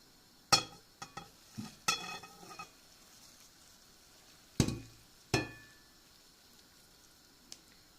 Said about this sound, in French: je les verse secs dans un saladier et je verse l'eau que j'avais mis dans la casserole dessus bouillante